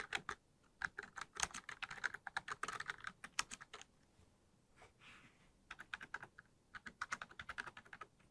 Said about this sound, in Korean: 또 한 번 타이핑 쳐주십니다.